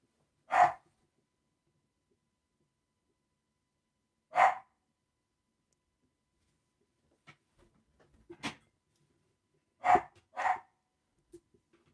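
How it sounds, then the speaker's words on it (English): A dog barks in short, sharp bursts indoors, separated by long silences, with a quick double bark near the end; some faint breathy sounds sit between the barks. "that is my dog barking his head off because someone outside has closed their car door"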